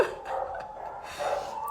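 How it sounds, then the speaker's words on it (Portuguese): Dogs bark excitedly indoors, a couple of quick yelps in a burst, fairly faint and somewhat distant. "os meus cachorros estão aqui enlouquecidos"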